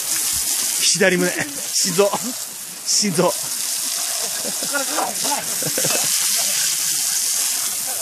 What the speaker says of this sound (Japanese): シャワーで水、水がもったいないから早く止めて